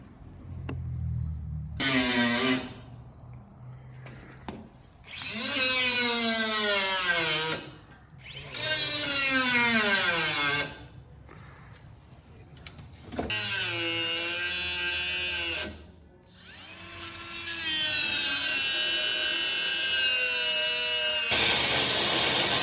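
Power tool cutting the body metal of a Jeep XJ for notched flares: several loud, close bursts of high whining and grinding, each rising and falling in pitch, separated by short pauses.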